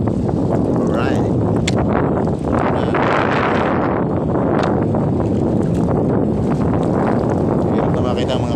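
Strong wind buffets the microphone out on the water while fishing from a boat, a loud, constant roaring rumble with gusting swells, and a voice talks beneath it.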